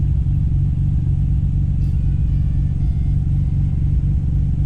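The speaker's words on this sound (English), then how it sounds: "I wonder if that's the throwout bearing making that noise." A car with a suspected noisy new throwout bearing gives a loud, steady low rumble of engine and drivetrain noise heard from inside, unbroken and without talk.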